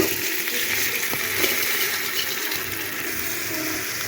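Washed pilau rice pours into a pan of browned fried onions, a dense continuous rushing hiss and sizzle with soft scraping, steady and close throughout.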